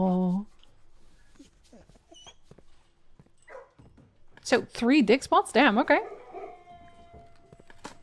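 Dogs in a kennel in the game Blue Prince let out a run of wavering howls and whimpers, fairly close and loud, after someone speaks briefly over quiet game sounds.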